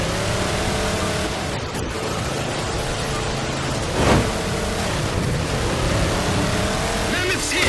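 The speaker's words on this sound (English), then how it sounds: "All units, unidentified Covenant vehicle incoming." A Covenant vehicle approaching in Halo 4, heard as a loud continuous engine drone with whooshing surges, and a voice speaks over it.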